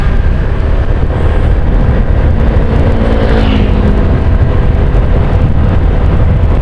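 A loud, close motorcycle tricycle engine drones continuously, a small motor working hard at steady speed with rushing road noise.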